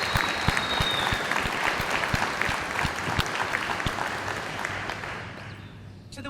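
Audience applause at an aviation graduation ceremony, a dense sustained clapping from a large crowd that holds steady and then gradually fades toward the end.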